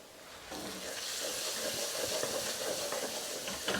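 Ground spices sizzle and crackle steadily in hot oil for lamb curry, a moderately quiet, continuous frying hiss that begins abruptly and carries on without talk.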